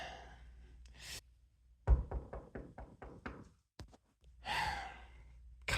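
Several sharp knocks on a door in a quick uneven series, close and crisp, framed by heavy sighs and breaths before and after.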